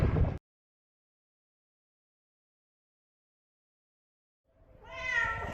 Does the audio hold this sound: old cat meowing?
yes